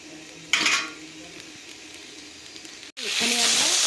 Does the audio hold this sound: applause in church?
no